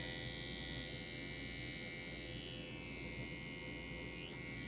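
An electric toothbrush buzzes continuously on high, a steady, even drone that never breaks, fairly quiet.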